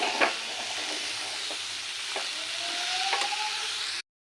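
Amaranth leaves stir-frying in a pan give a steady close sizzle, with a few spatula scrapes and stirring clicks over it and no talking, before the sound cuts off abruptly.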